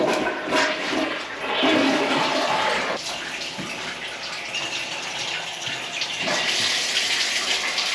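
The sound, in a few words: hot water running from tap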